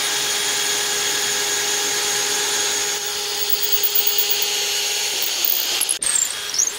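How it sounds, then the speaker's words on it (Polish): A power drill whirs steadily as it bores a deep-hole auger bit into oak, a high grinding drone that shifts and falters near the end. "Tylko zamiast własnych rąk, siły to jest wiertarka"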